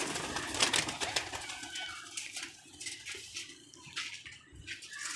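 Pigeons kept in a loft, with a bird-like sound and soft broadband water-like noise running throughout at moderate level, without clear distinct coo phrases and with no speech.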